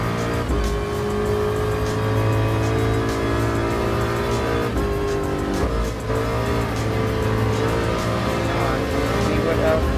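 A Ford GT LM Spec II race car in Gran Turismo Sport screams at high revs through a circuit, a loud steady engine drone with gear changes and brief tire squeal, no talk.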